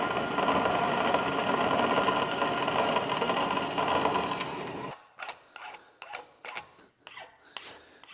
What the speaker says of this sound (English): Oh wait, I have a bandsaw.